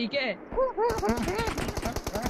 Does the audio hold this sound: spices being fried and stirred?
no